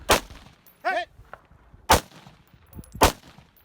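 Rifle shots fired at steel targets about 300 to 400 yards away on an outdoor range, three sharp loud cracks spaced about a second apart, with brief ringing tones between them.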